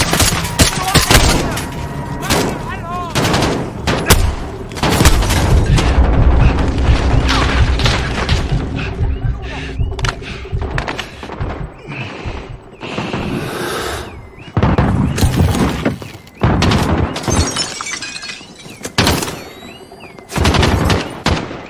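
Rapid bursts of gunfire in Call of Duty: Modern Warfare crackle and boom loudly, broken by short pauses, with dense overlapping shots throughout.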